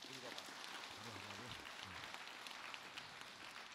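Soft, distant applause from a congregation welcoming a monk at a Buddhist Sunday service, a faint continuous patter with a voice speaking briefly over the start.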